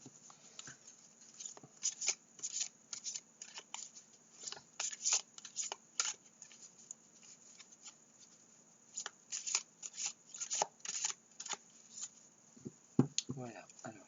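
Tarot cards are shuffled close by, repeated soft riffling and slapping bursts with short pauses between them, ending with a few sharper card sounds.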